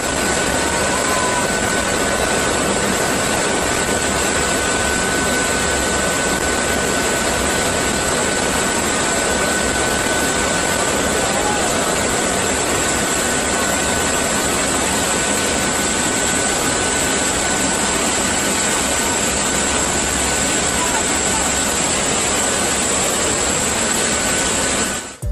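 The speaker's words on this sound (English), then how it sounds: "These two cargo planes are flying very close to each other." Two cargo planes flying close together, a steady loud engine drone with a constant whine that holds unchanged for the whole stretch, with no voices.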